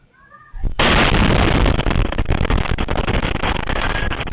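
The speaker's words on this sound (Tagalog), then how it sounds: "Sa lakas ng nakabibinging pagsabog, napatakbo ang mga residente" A sudden loud explosion of stored fireworks awaiting disposal erupts after a quiet moment in Zamboanga City, followed by a sustained roaring, crackling rumble that stays loud throughout.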